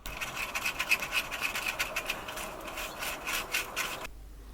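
Worn bearing cups from a BSA bicycle bottom bracket, a cheap brand installed in 2019 after about 16,000 km, turning with a steady gritty scraping and rasping, close up with no talk, ending abruptly.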